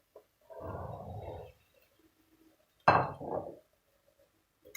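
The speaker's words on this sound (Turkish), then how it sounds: "Şimdi içerisine nohutlarımı ilave ediyorum." Chickpeas tipped into a pot of meat and chickpea stew: a second-long rumbling pour, a pause, then a sharp clattering rattle that quickly fades, with no talk.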